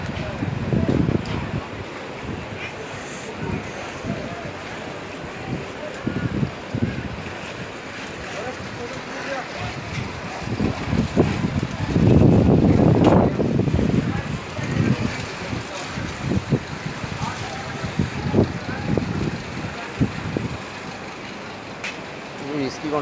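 Strong wind buffets the microphone at a crowded Rahmatganj livestock market in Bangladesh, a steady roar with a louder gust near the middle, while the crowd and nearby talking continue underneath.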